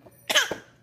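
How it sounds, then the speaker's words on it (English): A small child gives a single short, close cough in an otherwise quiet room. "Is that a fake cough or a real one?"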